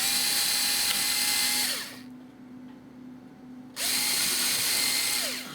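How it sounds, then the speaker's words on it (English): Two bursts of a whining power drill drilling holes on an Edge 540 build, separated by a short pause of near quiet, each running at steady speed before spinning down. "Alright, let's drill that one."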